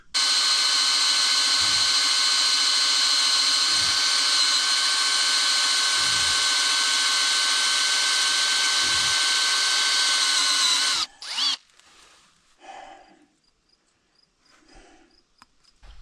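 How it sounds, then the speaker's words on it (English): A power drill whines steadily at high speed for about eleven seconds drilling out the bolt heads on a wheel, with a few low knocks underneath, then cuts off, leaving faint clicks and handling noises. "Looks like we're gonna have to drill heads on that one."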